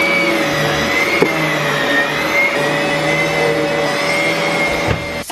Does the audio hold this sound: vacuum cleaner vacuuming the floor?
yes